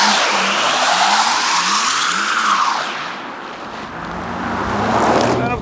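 A 2025 Porsche Macan Turbo EV launches hard without launch control, its tires squealing and spinning loudly as the car pulls away, with the screech sweeping upward, fading briefly, then swelling again.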